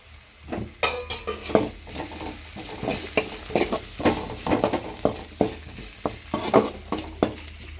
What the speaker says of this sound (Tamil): வெங்காயம்லாம் நல்லா வதங்கிருச்சு இப்போ வந்து நம்ம தட்டி கொஞ்சமாக மிளகு சேர்த்துக்கலாம்